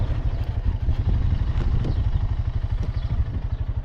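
A four-wheeler ATV engine runs at a steady low idle on a farm, its rapid even putter close by with light clatter over it.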